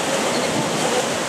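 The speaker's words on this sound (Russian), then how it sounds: "Это вообще конкретная волна была." Loud, continuous roar of sea waves surging and crashing against the rocky shore at Dwejra Bay on Gozo, Malta, heard up close with broadband wash and some wind.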